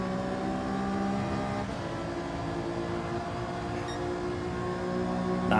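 In Gran Turismo 7, a racing car engine holds a continuous, loud high-rev whine with a slight dip midway, as if on a sustained run through a corner.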